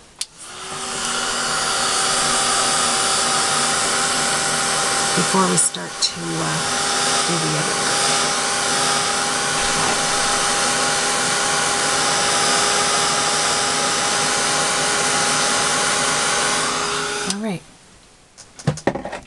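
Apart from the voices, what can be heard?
hair dryer drying watercolor paper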